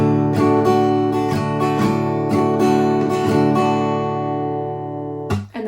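A guitar strums the first line of the pattern for a song, loud and close, with a series of rhythmic down-and-up chord strokes that ring out and fade before a final muted brush.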